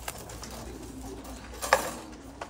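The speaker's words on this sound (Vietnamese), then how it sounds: "Đây là cũng là chim bồ câu ti tan thái siêu thịt mọi người nhé" Thai Titan meat pigeons coo softly at a breeding farm, a faint low cooing over a quiet hum with a brief brighter call near the end.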